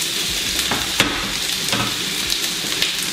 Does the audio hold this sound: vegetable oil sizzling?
yes